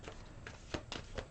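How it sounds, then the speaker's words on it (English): A deck of Law of Attraction cards is shuffled by hand in a few quick, soft riffling bursts, close and quiet with no voice. "One more shuffle."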